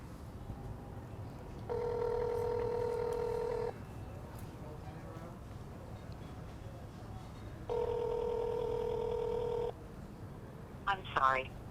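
A telephone call is being placed: two long stretches of dial and ringback tone, each about two seconds, sound clearly over steady room noise, followed by a brief electronic chirp near the end.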